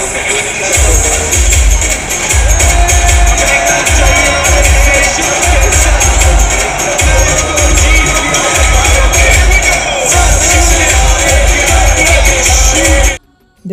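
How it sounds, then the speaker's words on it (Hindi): A large crowd at a busy fair in Agrasen Bhawan fills the scene with dense, continuous babble and shuffling, loud and close throughout, with a person talking over it. "बहुत ज़्यादा भीड़ है।"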